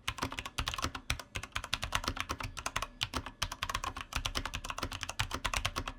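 Rapid, continuous clacking of a 60% mechanical keyboard being typed on, steady and close, with no voices.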